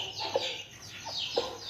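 A rooster clucks in short, sharp bursts, three quick calls over faint background noise, fairly close.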